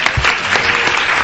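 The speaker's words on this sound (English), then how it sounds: "Can I ask also to clap for Stuart, who I think is a wonderful." Symposium audience applauding, a short burst of steady, close clapping from a room full of people.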